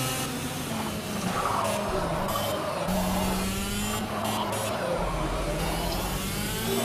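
A go-kart in the racing game Project CARS drones steadily at high revs for several seconds, its engine pitch rising and falling through corners, with tyre noise and a dense, constant background of other karts.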